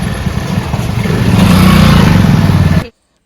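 A motorcycle engine revs loudly and continuously for almost three seconds, rising slightly in pitch, then cuts off abruptly into silence.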